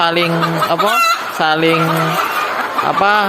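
Laying hens kept in pairs cluck loudly and close by in a run of repeated, throaty calls with rising and falling pitch and short gaps between them.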